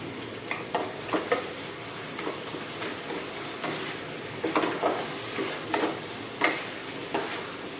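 Ginger chicken stir-fry being stirred in a home kitchen pan, a soft continuous sizzle with scattered scraping taps of the utensil against the pan, fairly quiet and without speech.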